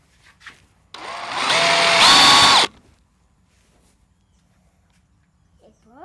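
A power drill bores a hole into a vertical pellet smoker, whirring up loudly for under two seconds with a rising pitched whine before cutting off, framed by brief clicks and quiet surroundings.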